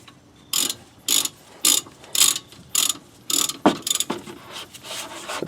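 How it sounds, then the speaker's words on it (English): A hand ratchet tightening 12mm brake caliper bolts on the rear brakes of a 2011-2017 Honda Odyssey, with about eight loud, close, evenly spaced clicking bursts followed by a quicker run of clicks and no talking. "Put this nice and snug with your ratchet."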